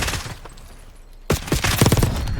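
Rapid bursts of video game gunfire, a short volley, a brief pause, then a louder stretch of dense, crackling shots, close and punchy.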